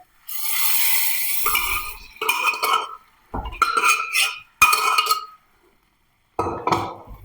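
Cooked horsegram poured into a pan and stirred, heard as several short bursts of clattering and scraping utensil noise with silent gaps between them.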